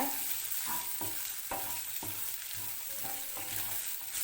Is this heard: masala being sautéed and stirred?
yes